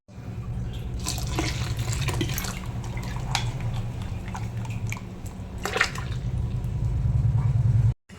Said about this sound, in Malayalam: ആവശ്യത്തിന് വെള്ളവും കൂടെ ഒഴിച്ച് കൊടുക്കാം